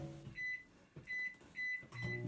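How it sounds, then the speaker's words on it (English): Microwave oven keypad beeps as it is set for 30 seconds, a series of short high electronic tones in a rhythmic pattern, near and fairly quiet over a low hum. "Take it over to the microwave, put it on 30 seconds"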